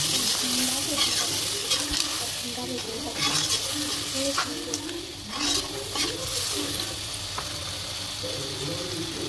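Vegetables sizzle and crackle steadily in a hot wok as a vegetarian dish is cooked, with scraping stirs and clinks recurring throughout, close and fairly loud; a faint voice surfaces once or twice under the frying.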